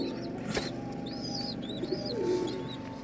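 Karnapura pigeons coo in a loft, with several soft low coos and a few higher calls over a steady background hum, fairly close and moderate in level.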